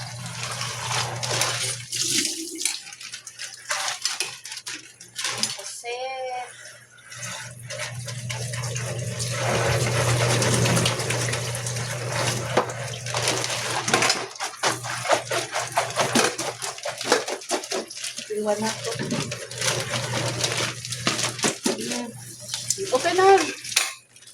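Water runs from a tap during home cooking of chicken, a continuous splashing hiss mixed with occasional clinks of dishes, while people talk over it.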